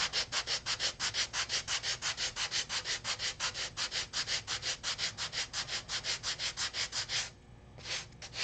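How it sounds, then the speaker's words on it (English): Wood is sanded by hand with steady back-and-forth strokes, a fast even rhythm of close rasping scrapes that runs on for several seconds, pauses briefly, then resumes with a couple more strokes. "Maybe back sand a little more."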